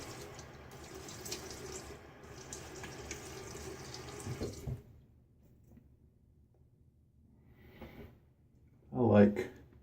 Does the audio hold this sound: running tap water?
yes